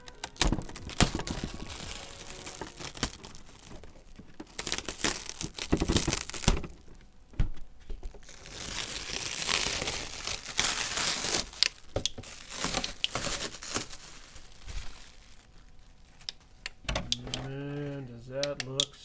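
Heavy plastic wrap crinkles and tears in bursts as a Traxxas Toyota Supra RC car is unwrapped, close and uneven with pauses between pulls, and a brief voice comes in near the end.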